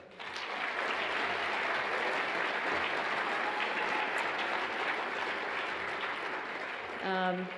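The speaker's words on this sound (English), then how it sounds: "a round of applause for the Arts Council Board" Sustained applause from a crowd at an arts awards ceremony, steady clapping that holds for several seconds before tapering off into a brief voice.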